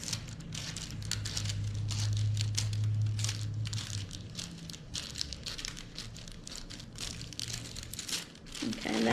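Scissors cut across a diamond painting sheet, a close run of crisp crinkling snips and plastic rustles, with faint handling noises between cuts.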